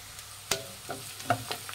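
Egg puff filling being stirred in a pan with turmeric and salt: a few soft scraping strokes over a quiet background sizzle, one sharper knock of the spoon partway through, close and fairly faint.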